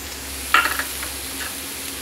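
Grated ginger and onion hit a hot pan over medium gas, giving a brief crackling sizzle burst with a short stir, then a steady soft fry hiss carrying on alone.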